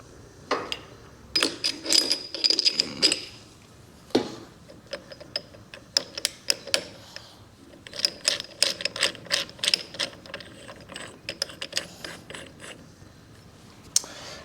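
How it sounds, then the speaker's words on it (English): Metal parts clink and ratchet as the clutch hub is pulled from the inner primary of a 1974 Harley-Davidson Superglide Shovelhead, with irregular bursts of clicks and clattering taps close up, no talk. "now that that clutch tamer is out, we can pull the clutch hub"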